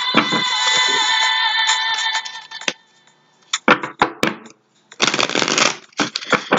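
A deck of tarot cards is shuffled by hand up close, with a long riffling burst, a pause, then sharper taps and further shuffling flurries; loud and alone, no speech.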